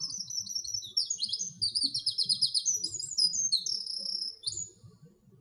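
Woodland birdsong played back from a video installation: continuous high, rapid warbling trills and chirps in overlapping phrases, fairly loud, with a low rumble of background room noise beneath.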